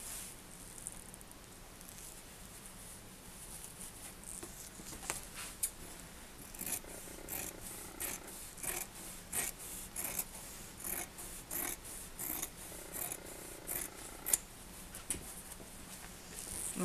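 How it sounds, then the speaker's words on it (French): Scissors cut through folded fabric for bag handles in a series of quiet, irregular snips and rustles, close up and gradually more frequent, with no talking. "Et donc je vais couper deux anses comme ça de 4 cm. Le tissu plié toujours."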